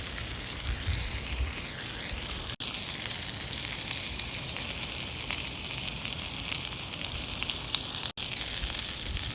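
A T-bone steak fries low and slow in a pan, giving a steady, close sizzle with dense crackling fat that runs the whole time, broken by two brief dropouts.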